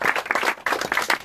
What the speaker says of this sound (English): I also want a round of applause for Pieśniarze.